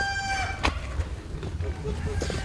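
Chickens clucking and a rooster crowing on a Hungarian farm that also keeps racka sheep and horses, heard outdoors over steady background noise with faint voices.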